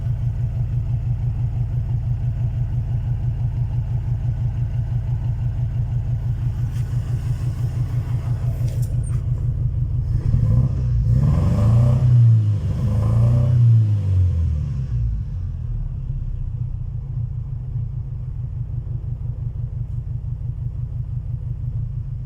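A Toyota 4A-F engine runs at a steady idle, rising briefly into a couple of revs that swell and fall back, a close, loud, continuous rumble with no talk.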